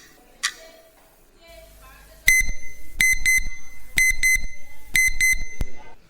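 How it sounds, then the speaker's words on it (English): A quiz buzzer alarm at a school quiz grand final rings out in repeated sharp, loud electronic bursts, several rapid pulses in each group, after a brief faint sound and some quiet room noise. "Let the technician check the alarm for you quickly."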